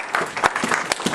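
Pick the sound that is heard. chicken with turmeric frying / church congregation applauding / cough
church congregation applauding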